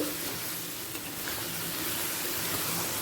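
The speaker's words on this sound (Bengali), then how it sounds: "চিংড়ি মাছটা পেঁয়াজের সাথে ভেজে নেব দু মিনিট মাঝারি ফ্লেমে" Shrimp fry with onions in a pan over a medium flame for a malaikari, producing a continuous, fairly loud sizzle with faint stirring and no speech.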